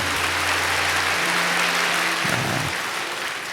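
A congregation claps during a Sunday church service, broad steady applause spreading through the hall while sustained keyboard or organ tones hold underneath and fade near the end.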